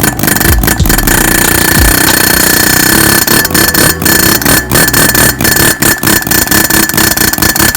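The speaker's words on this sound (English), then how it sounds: "Bryson goes ahead and uses the air hammer again to gently push in the new exhaust valve guide" Pneumatic air hammer pressing a new exhaust valve guide into a Honda Civic D16Y8 VTEC cylinder head, a loud continuous rattling hammering broken by short pauses and bursts of choppy strikes.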